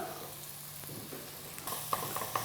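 Onions being lightly sautéed in a pan for a keto quiche: a soft, steady sizzle with a few sharper crackles and pops toward the end.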